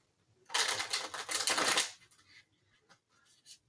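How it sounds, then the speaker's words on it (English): A quick riffle of playing cards being shuffled, a dense fluttering burst lasting about a second and a half, followed by a few soft taps. "Let me do one more shuffle."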